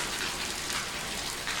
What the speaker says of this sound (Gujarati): જો અહીંયા જોરદાર વરસાદ છે ચાલુ થઈ ગયો છે।